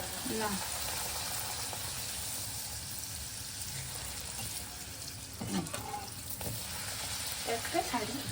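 Panch phoron and dried chillies sizzle in hot oil as potato curry is tempered, a steady crackling hiss with occasional stirring clinks and a brief run of tap water, at a low, even level.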